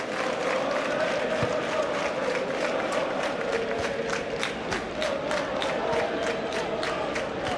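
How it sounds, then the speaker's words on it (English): A large football crowd applauds steadily in a dense roar of clapping, with cheering mixed in, sustained throughout at a distance. "they were on their feet applauding him again now."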